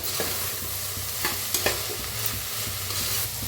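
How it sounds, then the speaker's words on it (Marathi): Masala stirred into sprouted moth bean rice in a hot pan gives steady, close scraping and shuffling strokes over a continuous low sizzle, with a few sharper spoon knocks. "ते अर्धा चमचा टाकूया मिक्स करून घेऊया"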